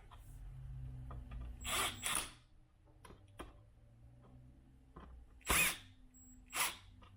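A power drill drives screws while an outdoor exterior light fixture is installed, sounding in a few short, sharp bursts separated by long quiet gaps with faint clicks.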